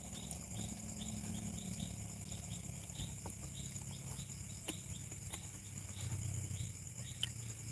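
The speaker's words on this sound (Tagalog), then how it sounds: "Kuliglig yung panig mo." Crickets chirp at night in a steady, rapid pulsing trill that persists quietly throughout, with faint scattered background clicks and no talking.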